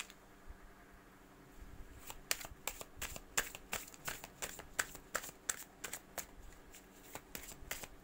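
Tarot cards shuffled and handled in a quiet room during a general reading, a run of sharp, rapid riffling snaps in quick irregular bursts, close and clear with no talking.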